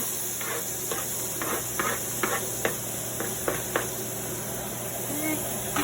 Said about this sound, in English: I have the peppers and the onions I'm gonna put in the pan